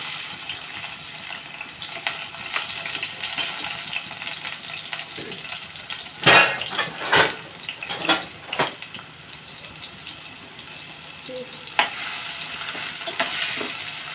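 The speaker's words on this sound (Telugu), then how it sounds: "ఆయిల్ హీట్ ఎక్కింది ఉల్లిపాయలు పచ్చిమిరపకాయలు మనం వేసేస్తున్నాము" Onions and green chilies hit hot oil in a pan with a steady soft sizzle, broken by several sharp stirring and clattering bursts partway through, then a continued low fry.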